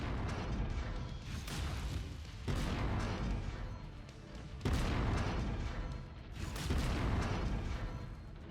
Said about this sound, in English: My last kill is about to explode.